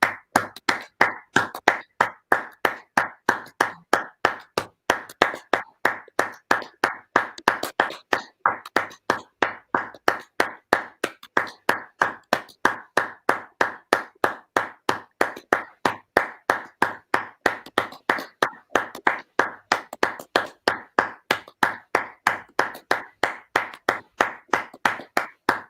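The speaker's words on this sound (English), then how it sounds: "We need to clap here for the coronavirus." A crowd claps steadily in unison before a Norwich versus Manchester United FA Cup quarter-final, a loud, even rhythm of sharp claps repeating for the whole stretch with no voices.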